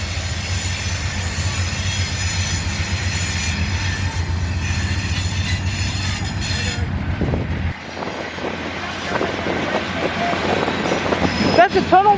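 A mixed freight train rolls past near the tracks, led by an SD40T tunnel motor locomotive, a loud sustained rumble of engine and rolling cars with wheel squeal, then lighter clattering of wagons as it continues by.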